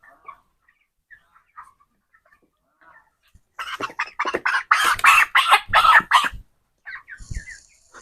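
A chicken clucks in a poultry farm shed, a quick, close series of clucks and squawks rising after a few seconds of near silence, with faint scattered sounds before and after.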